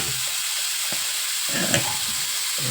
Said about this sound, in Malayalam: നമുക്ക് എണ്ണയിൽ എല്ലായിടത്തുനിന്ന് മിക്സ് ചെയ്ത് കൊടുക്കാമേ. വഴറ്റി